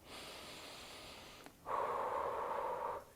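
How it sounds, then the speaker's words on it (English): Steady breathing during a therapeutic yoga pose: a soft hiss of inhalation, a short pause, then a louder, longer breath out lasting about a second and a half, close and clear with no talking. "I'm breathing."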